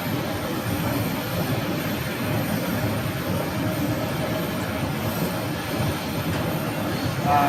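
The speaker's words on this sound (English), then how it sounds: "coming in over here, we have a CRJ 900." A Mesa Airlines CRJ 900 regional airliner approaching to land at Phoenix airport, heard as a steady, broad distant jet roar held at an even level throughout.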